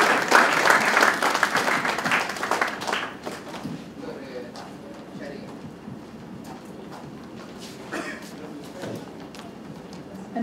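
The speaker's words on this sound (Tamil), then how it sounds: "மறுபடியும் ஒரு பலமான கைத்தட்டல்" Audience applause at an award ceremony: dense, loud clapping for about three seconds, then thinning into lighter, scattered claps that carry on to the end.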